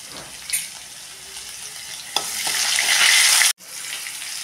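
Crushed garlic dropped into hot oil with asafoetida for a bitter gourd dish, rising into a loud, bright, hissing sizzle with a few spatula clicks, cutting off briefly before the frying carries on.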